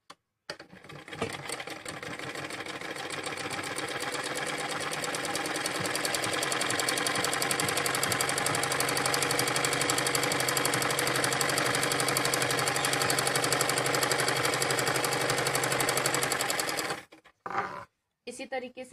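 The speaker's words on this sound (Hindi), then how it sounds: "इसी तरीके से दूसरे पैर तक हमें सिल के लेके जाना है।" A sewing machine stitches down the leg of a jumpsuit dungaree. It runs loudly and continuously at a steady rapid pace for about sixteen seconds, then stops, with a couple of brief clunks afterward.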